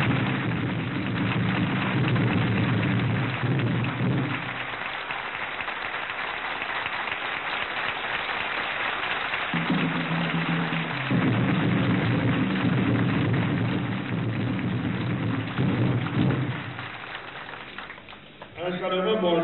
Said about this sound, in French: Applaudissons tous, debout,